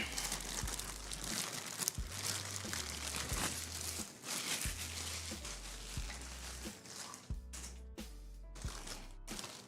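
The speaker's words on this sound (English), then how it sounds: "This little plastic bag." A small plastic parts bag crinkles and rustles nearly nonstop while a PC is being assembled, close and fairly loud with a few sharper crunches, and a low hum runs underneath.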